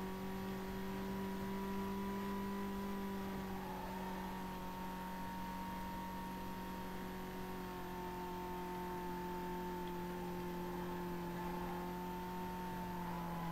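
Car engine in the racing game Need For Speed Most Wanted holds a steady high drone with layered tonal harmonics, loud and continuous for the whole stretch with no voices over it.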